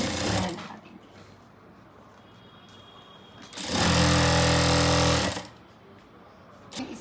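A sewing machine stitches salwar fabric in one loud, steady motor run of about two seconds, close by and alone, with quieter handling noise before and after.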